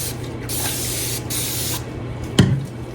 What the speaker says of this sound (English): I'm gonna spritz with alcohol